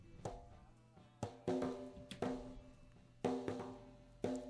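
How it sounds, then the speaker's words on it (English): A snare drum on a Tascam PortaStudio multitrack recording, treated with external rack-mounted reverb, hits a steady pattern of sharp strikes, each trailing into a ringing, washy tail. "So the snare, I did the same thing, different reverb, mind you."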